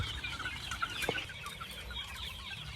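Healthy baby chicks peeping and clucking together in a farmyard, a faint, busy cluster of small chirps over soft background noise, with no talking.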